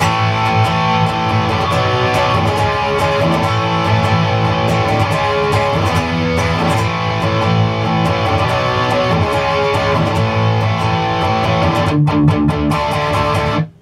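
Electric guitar plays the pre-chorus of a song in a steady, dense, continuous strum, with a brief break near the end before it rings on and cuts off.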